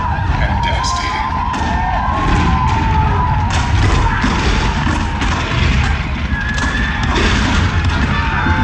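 Cannon fire marking Fort Sumter and the start of the Civil War in 1861 plays in a theatrical attraction show at Disney World's Magic Kingdom, a loud, dense barrage of heavy booms and rumbling that never lets up.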